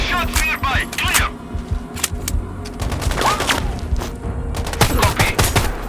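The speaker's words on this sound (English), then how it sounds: "I hear shots nearby." Gunshots in the Sniper Ghost Warrior Contracts 2 shooter, a rapid scatter of sharp cracks and bursts, several close and loud, others overlapping in quick volleys, with shouted voices in between.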